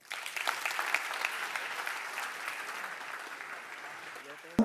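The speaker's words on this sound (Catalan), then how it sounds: "és just i merescut que rebi un fort aplaudiment" An audience at a publishing house's 90th anniversary celebration breaks into sustained applause, a dense even clatter of clapping hands that holds steady and fades slightly toward the end.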